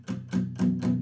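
An acoustic guitar is strummed with the palm resting too far forward on the strings, giving a thin, tinny tone in place of a chunky palm mute. Four close, steady percussive strums ring out alone.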